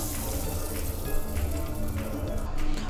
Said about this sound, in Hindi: ये मैंने इसके ऊपर बघार जो है वो डाल दिया